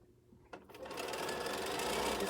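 A sewing machine starts up after a brief clunk and runs in a fast, steady stitching buzz through quilting fabric, close and fairly quiet.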